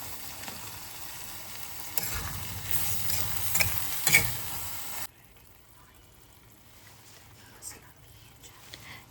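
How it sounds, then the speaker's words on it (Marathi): Vegetables being stirred into gravy in a kadai paneer pan give a soft sizzle and scraping for about five seconds, then the sound drops to a quiet low hum with a faint clink. "आता आपण हे सॉते केलेले भाज्या आपण ॲड करणार आहेत आणि भाज्या ॲड केल्यानंतर आपल्याला पूर्ण ती ग्रेव्ही आहे ती भाज्यांमध्ये मिक्स करायची आहे"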